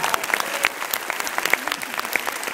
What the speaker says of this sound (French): mais surtout applaudissez-le